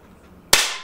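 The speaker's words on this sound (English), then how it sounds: "right side, shooting the lower part of the can" An Air Arms FTP 900 .177 PCP air rifle fires once at a can, a single sharp, close crack after a brief near-silence, trailing off in a short decay.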